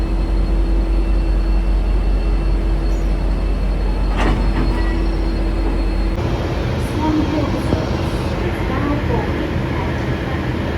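A V/Line N class locomotive-hauled train runs between Swan Hill and Bendigo, heard from on board as a constant loud rumble with rattling wheel and carriage noise and a shift in tone partway through.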